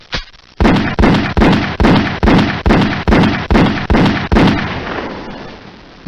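A rapid series of about eleven loud, evenly spaced gunshots cracks out as a sound effect in a public service radio spot, each blast with a short decaying tail, ending in a fading echo.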